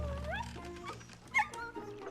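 A dog whimpering in the video game Baldo: the Guardian Owls, with short rising whines and a brief yip over steady low game music, no talking.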